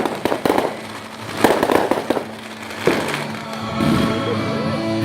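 Fireworks for July 4 pop and crackle in a rapid series of sharp bursts, some loud and close, others with a longer crackling tail, and no talking.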